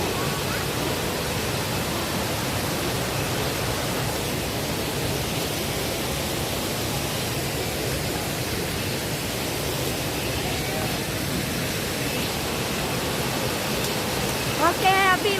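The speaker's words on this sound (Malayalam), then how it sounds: "ഓക്കെ, അപ്പൊ ഈ വാട്ടർഫാൾസ് എത്തിയിരിക്കുന്നു." A waterfall in Coorg roars as a steady broadband rush of falling water, loud and continuous throughout, with a few faint voices and a brief chirp near the end.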